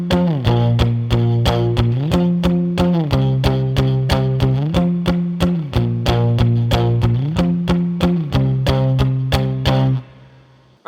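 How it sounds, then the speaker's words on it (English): Palm-muted two-finger power chords on a capoed electric guitar in the bridge of a song. A steady run of tight, chugging eighth-note strokes plays loud and close, with the chord shifting every few beats, then stops abruptly. "We go from open chord strumming into palm muted power chords"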